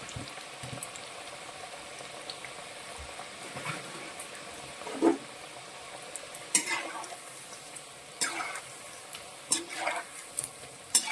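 Onion pakoda frying in hot oil, a soft steady bubbling sizzle with occasional sharper crackles and stirring clinks, fairly quiet and with no voices.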